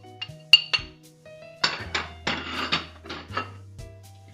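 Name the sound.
mixing spices in a bowl with a spoon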